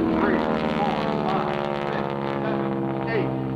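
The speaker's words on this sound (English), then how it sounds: "He's going to take it and roll this airplane around." A propeller airplane flying a 16-point hesitation roll at an airshow, its engine a steady, loud droning hum with slight pitch wobbles as it maneuvers overhead.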